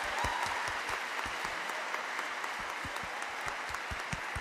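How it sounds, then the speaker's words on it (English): An audience at an awards ceremony for science prizes applauding, sustained even clapping from many hands that fills the room at moderate loudness, with no speech over it. "Give her a round of applause."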